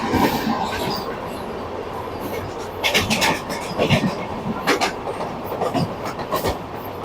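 A Vande Bharat Express train from NJP to Howrah rolling along, heard from inside as a loud rumbling run with rhythmic wheel clatter and bursts of rattling over the track.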